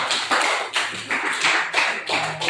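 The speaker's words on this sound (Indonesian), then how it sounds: "Tepuk tangan untuk Aisyah." A classroom bursts into brief applause for a student, about six loose, slightly uneven waves of hand claps in quick succession, near and fairly loud, with no talking.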